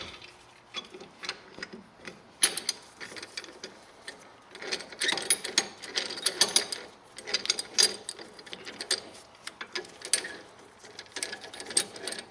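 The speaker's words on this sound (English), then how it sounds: "Now we're going to compress the brake caliper in a little bit here" Brake caliper on a 2010 Hyundai Santa Fe being compressed with a C-clamp, giving repeated close metallic ratcheting clicks and mechanical creaks in uneven bursts throughout, with no talk.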